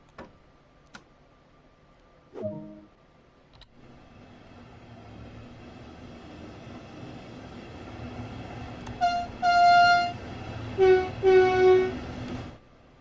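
A train in the video game Train Sim World 2 on PS5: a low rumbling hum builds steadily, followed near the end by several loud tonal horn toots in short bursts, with a few sharp clicks earlier.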